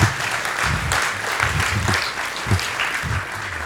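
A conference audience at a talk on static site generation breaks into steady applause, many hands clapping in a dense, sustained patter that fills the room without pause.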